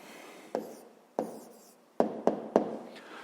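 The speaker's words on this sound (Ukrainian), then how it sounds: "Ну що ж, записуємо відповідь." A pen writes an answer by hand on paper during a fifth-grade math exercise: five short separate scratching strokes, close and clear, with quiet pauses between them.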